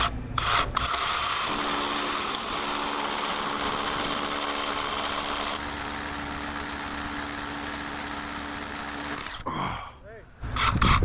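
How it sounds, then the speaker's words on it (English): A steady, grinding drill bores through wood for several seconds, a continuous rasping whine that cuts out near the end. "It doesn't drill through real easy."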